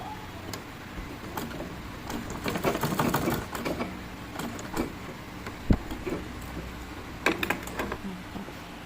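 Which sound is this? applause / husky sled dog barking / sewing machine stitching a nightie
sewing machine stitching a nightie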